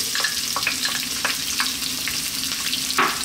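Chopped onion sizzles in a hot pan on high heat for a vegan cauliflower curry, a steady close frying hiss broken by sharp crackles and spatters, with no talking.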